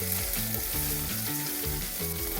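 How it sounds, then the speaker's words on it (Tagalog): Smoked milkfish (tinapa) mini pizza cooking in a pan, a steady close sizzle of frying that runs unbroken for the whole short stretch, with no voices. "Naririnig ko nagsisizzle na eh."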